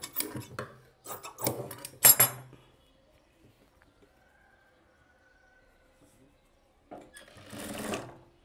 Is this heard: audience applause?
no